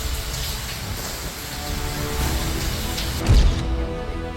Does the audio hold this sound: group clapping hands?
no